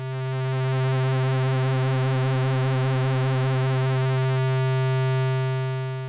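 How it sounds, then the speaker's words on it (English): A sustained synthesizer pulse wave drone, its width modulated by an LFO, with a slow, shimmering, wavering timbre, thick and chorus-like, holding a single pitch throughout before fading slightly. "A common trick with pulse waves is to modulate or automatically vary their width, using something like an LFO."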